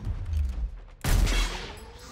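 Precision-shot gunfire in the tactical video game Gears Tactics: one sharp, loud shot cuts in midway with a reverberant tail, following a quieter low rumble.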